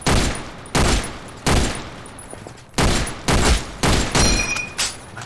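Sharp, loud gunshots from an old service rifle in the video game OTXO ring out one at a time at irregular intervals, each with a short decaying echo, about seven in all.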